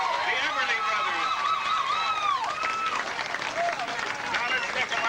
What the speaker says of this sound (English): How about one more final round of applause for our honored guests?